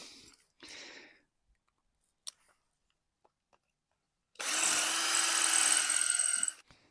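Power drill with hammer setting boring into soft brick for a wall plug, a loud steady whirring burst of about two seconds near the end, preceded by faint clicks and short scrapes.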